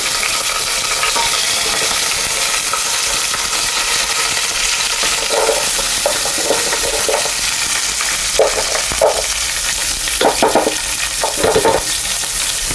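Food fries in hot cooking oil with a loud, continuous crackling sizzle, broken by occasional scraping and stirring clinks from a utensil, and no one speaks.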